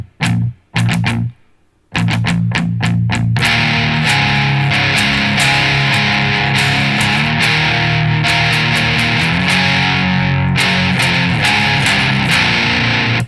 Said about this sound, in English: right after you're done strumming the 5, you go 8, you strum that once, wait for a second, and then it's going to go 8 7 3 2